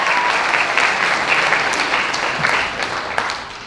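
Sustained audience applause at a community gala, a dense wash of many hands clapping steadily for several seconds before tapering slightly, with no voices over it.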